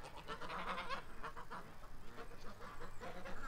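Geese honk at a lagoon, a dense, continuous chorus of overlapping nasal calls from several birds close by, with no talk over them.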